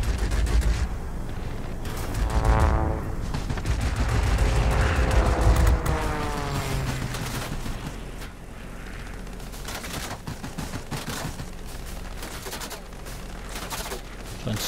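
Guns rattle in rapid bursts from a P40 warplane in World of Warplanes, mixed with a droning engine and booming impacts, loud and continuous with a whooshing pass midway.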